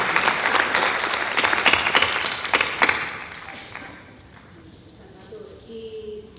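A crowd at a project presentation gala claps warmly for a few seconds, the applause fading out, followed by a quieter stretch with a voice beginning to speak in Spanish.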